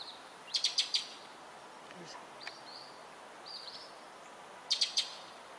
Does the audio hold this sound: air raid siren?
no